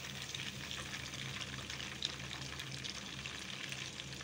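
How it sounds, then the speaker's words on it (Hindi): Chicken 65 pieces frying in oil give off a steady, even hiss of bubbling fat that stays faint and constant throughout, with no voices. "ये चिकन फ्राई हो गया है"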